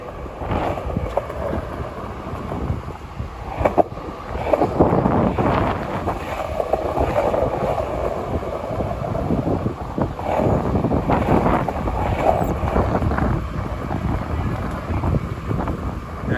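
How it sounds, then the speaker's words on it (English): Heavy wind at Hudson Yards, Manhattan, on a Saturday night roars and buffets the microphone continuously, with deep rumbling gusts rising and falling throughout. "it's just really windy"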